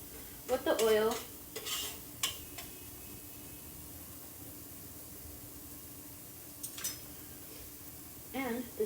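Onion and garlic cooking in oil in a pot for a lentil vegetable soup, a faint, steady sizzle under a few scraping stirs and clinks of a spoon against the pot.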